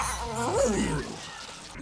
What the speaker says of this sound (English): Listen to him transform from a cat.